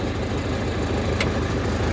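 A YUMZ tractor engine labours steadily while plowing an autumn field, a dense, continuous low mechanical drone heard close up with no pauses.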